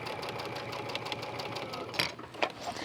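A sewing machine stitches a miter point, its rapid mechanical whir running steadily, with a couple of brief clicks and knocks near the end, no voices.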